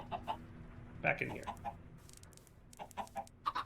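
Chicken clucks from a blocky modded survival video game, several short bursts scattered across the moment while someone talks over them intermittently.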